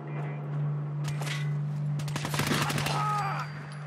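A pipe pistol fires a rapid burst of shots in the video game Fallout 4, a cluster of sharp cracks in quick succession over a steady droning hum, with a brief earlier shot and some faint background voice.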